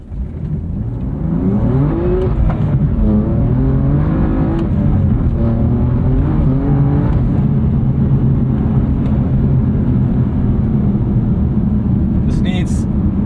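A 2020 BMW M2 Competition F87 making about 600hp revs hard at full throttle and climbs through the gears, a loud, sustained roar rising in pitch from close by.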